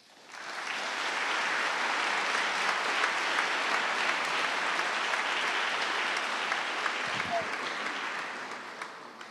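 An audience at a mock trial finals gives sustained applause, a steady dense roar of many hands clapping that rises quickly and holds evenly for about nine seconds, moderately distant.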